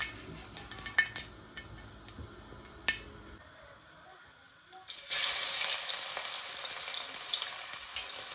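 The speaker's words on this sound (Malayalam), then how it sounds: "അതിനകത്ത് ഈ കുറച്ച് കടുക് ഇട്ട് പൊട്ടിച്ചെടുക്കാം" Mustard seeds crackle in hot oil, starting with scattered sharp pops and then swelling into a loud, steady sizzle for the final few seconds.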